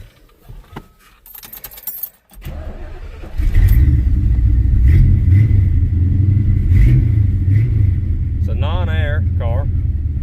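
A 1970 Chevrolet Monte Carlo with a numbers-matching 350 V8 and factory 4-speed starts after some key jangling, then idles with a loud, steady, deep rumble, while someone talks over it.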